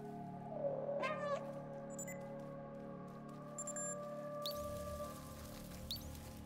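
A game cat in Stray lets out a clear drawn-out meow over a steady hum of machinery and ambient game sounds, followed by a few electronic chirps and beeps.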